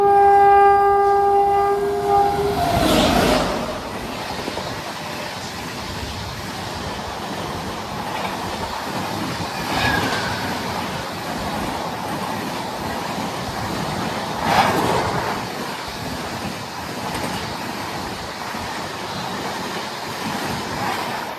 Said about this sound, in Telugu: యశ్వంత్పూర్ ఢిల్లీ సరాయ్ రోహిలా తూఫాన్ దురంతో ఎక్స్ప్రెస్